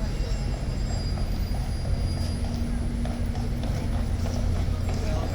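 A large horse at Horse Guards in London, heard as a steady rumbling background with faint hoof knocks on pavement, amid crowd noise and a low mechanical hum.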